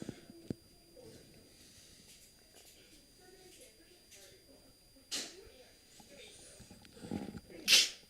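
A spectator at a high school baseball game between Lamar and McDonald County sneezes sharply twice in a quiet, open-air setting with faint background murmur, the second sneeze louder and closer.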